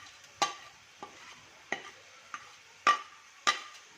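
Spices with a pinch of nutmeg and mace powder are roasted in a pan for chana pulao, stirred by a spatula that makes five or six sharp, close scraping strokes over a faint, steady sizzle, with no talking.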